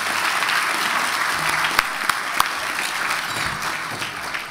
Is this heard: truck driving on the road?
no